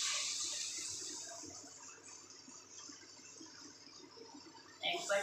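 Hot water poured from a bowl into simmering spicy fish curry, a steady splashing pour that fades gradually, fairly quiet, ending with a short louder burst.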